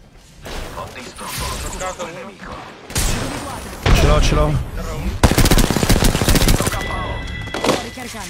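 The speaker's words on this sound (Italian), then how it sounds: "Mi stanno sparando." Machine gun fire in a battle royale video game, heard as repeated bursts and rapid shots mixed with clanks and impacts, loud and close, while people talk over the gunfire.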